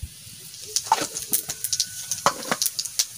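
Cumin seeds tossed into a little hot oil left from frying fish, giving quick irregular crackles and pops with soft sizzling hiss in between, close by and fairly quiet.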